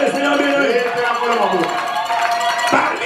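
A church congregation applauds and cheers in a dense burst of clapping and shouting voices, close and loud, with talking mixed in throughout.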